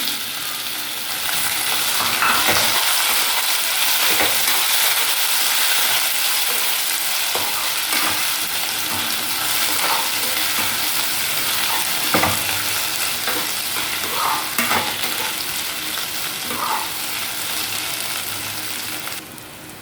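Chopped boiled potatoes fry in a pan with a continuous hiss, while a spoon scrapes and stirs them in irregular strokes throughout, close and steady, with no talking.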